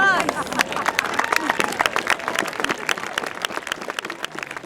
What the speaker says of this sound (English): with a big round of applause, please